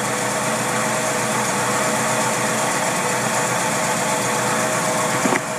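A boat engine with a faulty Holley marine carburetor, running rich and rough: a continuous idling drone with a faint uneven pulse and a small knock near the end, no talk.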